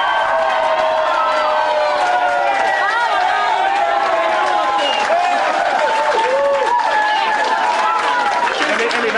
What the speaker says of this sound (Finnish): Vasemmistoliiton ihmisiltä aivan raikuvat aplodit.